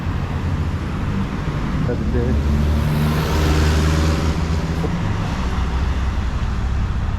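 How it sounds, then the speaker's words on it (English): Dense city street traffic in San Salvador with cars rolling past in a steady, loud roadway roar and engine hum, and a person briefly speaking over it. "A lot of cars."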